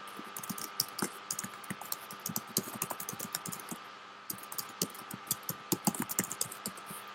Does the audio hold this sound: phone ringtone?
no